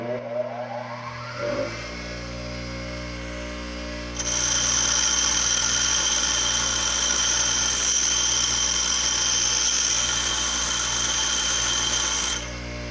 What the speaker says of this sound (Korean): 연마석 면을 깨끗하게 다듬고 작업해 보도록 하겠습니다.